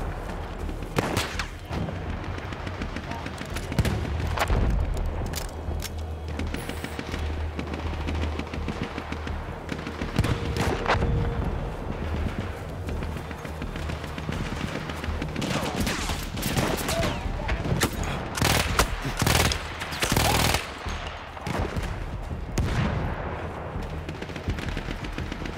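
Battlefield 1 gunfire, with bursts of rifle and machine-gun shots crackling repeatedly over about twenty-five seconds amid loud battlefield noise, some near and some further off.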